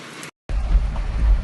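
Hail pelting down during a rainstorm in Medina, Saudi Arabia, a steady dense rattling roar that breaks off briefly into silence and then returns loud and close, with no voices.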